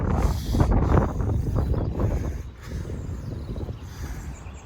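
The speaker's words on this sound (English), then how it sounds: "So look, it's very windy today," Strong wind buffets the microphone on a farm with sheep nearby, a rough continuous roar that gusts louder at first and then eases slightly, with no talking heard.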